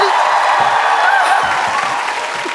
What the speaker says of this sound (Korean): 자, 박수 좀 많이 쳐주세요.